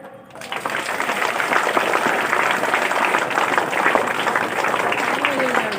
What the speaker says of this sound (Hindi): एस्कॉर्ट ताली